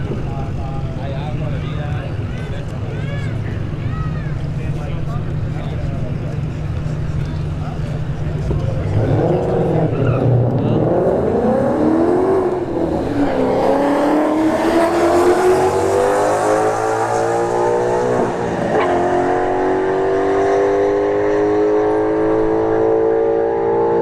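Two cars, an S197 Ford Mustang and a BMW Z4, launch in a drag race at a test-and-tune street event at Bradenton Motorsports Park, engines rising from a steady idle into loud, climbing revs through the gears, with a track announcer talking over them.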